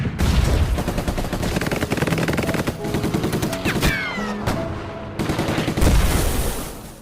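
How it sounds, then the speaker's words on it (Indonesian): War film battle scene with dense bursts of automatic gunfire and rapid shots, loud and continuous throughout, layered with clattering impacts and a brief whistling sweep in the middle. "Tamik dan rekan-rekannya langsung menembaki tentara Uni Soviet Estonia."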